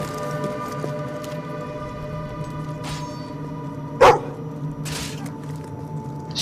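Charlie the dog barking in Fable II on Xbox 360: a single sharp bark stands out midway, with a few fainter yips around it over a low steady game ambience.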